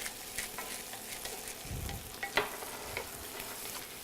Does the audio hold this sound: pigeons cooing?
no